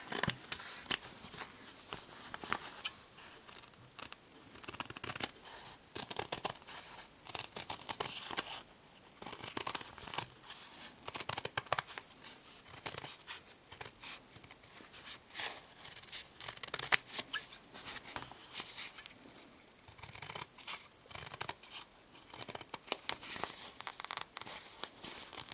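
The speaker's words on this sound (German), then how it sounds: "Und dann schneiden wir den Körper aus" Scissors cut out a paper template for an owl appliqué, producing quiet, close, irregular snips and crisp paper rustling in bursts with short pauses, and no talking throughout.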